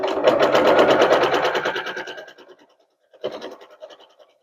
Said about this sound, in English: so I'm going to sew to about here.